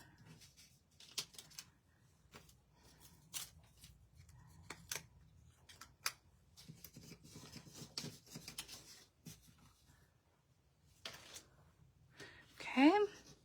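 Small scissors snip at the tab of a slimline paper card, leaving quiet, sparse clicks and cuts scattered among soft paper handling and faint room noise, with a brief squeaky sound near the end.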